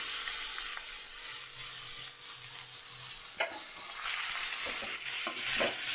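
Flattened rice with cashews stirred in a hot pan, a steady soft hiss of frying under repeated scraping and tossing strokes, close and fairly quiet, with no talking.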